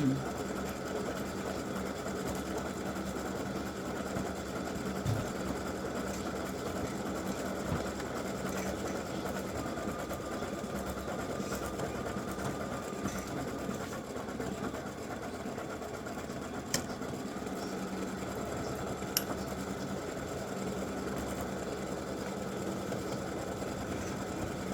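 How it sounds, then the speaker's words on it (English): An embroidery sewing machine runs a steady, fast, even satin stitch for freestanding lace pretzel earrings and gift tags, a continuous mechanical whir with a few faint clicks and a voice speaking now and then. "it's doing that satin stitching on the inside open part"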